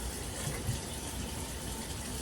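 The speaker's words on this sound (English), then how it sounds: "But I'm gonna rinse this first." Turkey chops are rinsed under a running kitchen tap, making a steady, close, continuous rush and splash of water with no talking.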